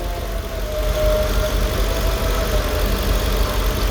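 A car engine idles steadily during a 722.6 transmission rebuild, a loud, even low rumble with a faint constant whine above it and no pauses.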